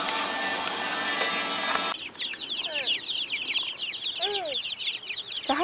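Backyard chickens cluck and call in a few short bursts over soft outdoor ambience, following a brief stretch of steady hiss at the start.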